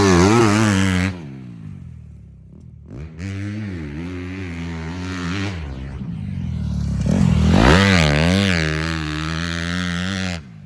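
A Honda CRF250R dirt bike fitted with dual Yoshimura exhausts rides past, its engine rising and falling through repeated revs, loud and close with brief quieter gaps between pulls.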